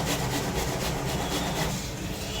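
Onion being grated by hand on a kitchen grater for a home cold remedy: a continuous, loud rasping scrape, steady and close, with no talking, easing slightly toward the end.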